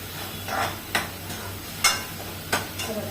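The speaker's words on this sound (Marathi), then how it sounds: "इथे आता आपलं मस्त छान कांदा पण परतून झालेला आहे" Onion frying in oil in a pan for lemon coriander soup, a steady soft sizzle broken by a few sharp scrapes and clinks of a spoon stirring against the pan, close up with no talk.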